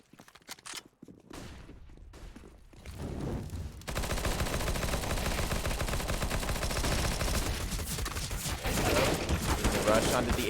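Galil rifle fire in a competitive Counter-Strike match, with rapid sustained bursts of gunfire that swell into a dense continuous barrage, and a few sparse shots and footsteps at the start.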